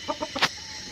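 A rooster, one of three birds of Korean breed, gives a quick run of short low clucks close by, ending in a brighter squawk-like note, all within a second.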